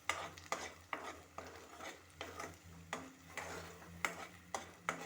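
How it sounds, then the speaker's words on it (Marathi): Spoon stirring a sour-spicy fish curry (kalvan) in a pan over a low gas flame: repeated scraping strokes with faint sizzling in between, soft and close, with no voices. "त्यामुळे फ्लेम गॅसची बारीकच ठेवायची आहे आणि व्यवस्थित असं ढवळून घ्यायचं आहे."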